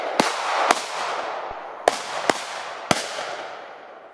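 Firecrackers set off outdoors, one bursting in the air: five sharp, loud bangs come at irregular intervals over a lingering crackly hiss of smoke and debris, with no talking.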